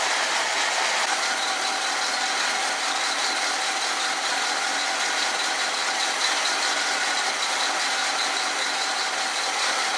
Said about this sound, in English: I think it is idling just a hair slow.